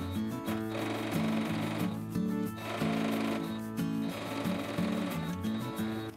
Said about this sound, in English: And then sew the side seams with a 1/2 inch seam allowance.